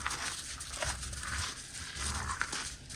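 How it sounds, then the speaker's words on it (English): Dogs bark near a sawmill where red fir and cedar are being milled, in a few short, repeated yaps that rise and fall over a low background hum, with no talk. "Noisy dogs."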